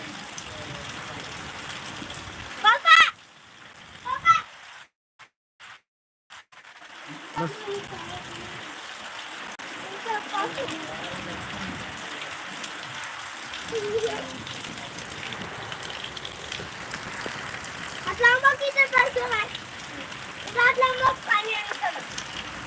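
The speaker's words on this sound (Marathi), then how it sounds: "हवासुद्धा जोराची येत आहे त्यावर पाऊससुद्धा आहे हव्याबरोबर पाऊस" Rain driven by strong wind falls in Kinwat, Nanded district, a steady wash of noise with gusty swells, while someone talks over it at intervals and the sound cuts out briefly near the start.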